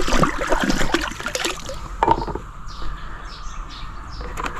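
Water sloshing and trickling as insecticide is dissolved and stirred into it outdoors, busy and splashy at first, then settling into a quieter trickle, with birds chirping in the background.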